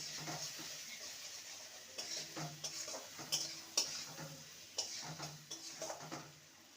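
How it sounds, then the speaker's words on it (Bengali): Spices with coriander and cumin powder being sautéed in a pan for a vegetarian papaya dish, quiet irregular scrapes and taps of a stirring spoon over a faint, low sizzle. "জিরে গুঁড়ো হাফ স্পুন ভালো করে সমস্ত কিছু কষিয়ে নেব"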